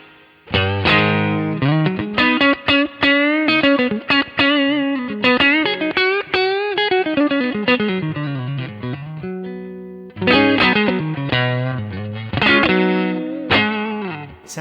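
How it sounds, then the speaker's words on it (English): A Fender Stratocaster plays a flowing melodic line of chords and single notes, clean through a Kemper twin amp profile, loud and sustained with shimmering effects and a brief pause before it picks up again. "I've got my clean guitar with my twin, right here. And it sounds like this."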